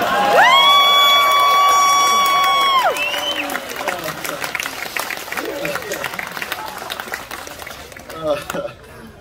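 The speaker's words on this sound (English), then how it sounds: "Applauding my screw up." Audience at a yo-yo performance at the NYRF 2021 event breaking into applause, cheers and shouts after a failed hard trick, a sustained crowd roar with a loud tonal whistle or horn at the start, then clapping that tapers off.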